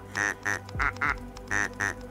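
A cartoon duck in an indie video game quacks when clicked repeatedly, giving six short, loud, nasal quacks in a quick uneven rhythm with no talk.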